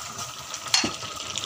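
Chicken frying in a pan with onion going in, a soft sizzle with stirring and a brief scrape or clink of a utensil, close but fairly quiet.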